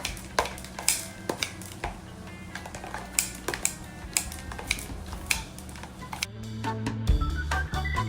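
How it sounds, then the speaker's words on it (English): Meat scissors chop food while preparing healthy tacos, giving sharp, irregular snips and clicks close by at roughly half-second intervals, followed by a lower rumbling clatter near the end. "I just chop it up like this with my meat scissors."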